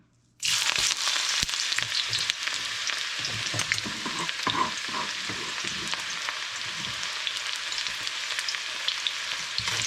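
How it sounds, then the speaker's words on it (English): Onion dropped into hot oil in a pot for Guyanese gillbaka fish curry, bursting into loud continuous frying and sizzling that stays steady and close, with occasional stirring scrapes. "In goes the onion."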